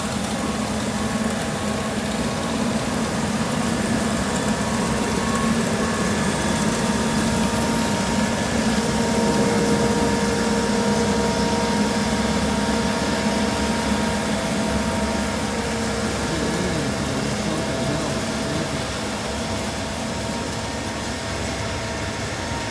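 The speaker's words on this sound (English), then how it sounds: "The most expensive lawnmower in the world." A lawnmower engine drones steadily from somewhere uphill during a hunting outing, a continuous distant hum heard alone with outdoor ambience and no speech.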